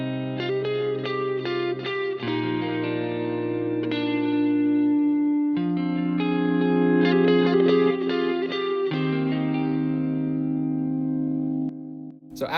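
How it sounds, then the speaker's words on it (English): A hip-hop beat made in Reason 10 plays alone, its tonal melodic notes and chords smeared by echo delay repeats and a plate reverb tail, steady and clear throughout. "So I added a delay using the echo and just a simple plate reverb."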